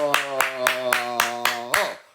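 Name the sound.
clapping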